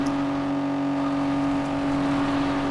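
Car engine in the racing game Gear.Club Unlimited 2 on PS5, a steady high droning rev held flat without a limiter, loud and continuous with no voices.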